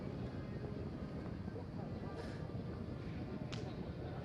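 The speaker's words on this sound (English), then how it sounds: "You hear that breeze picking up there, can't you?" A breeze picks up at the Mugello race circuit, heard as steady, loud rushing wind noise on the microphone throughout, with no clear gusts or breaks.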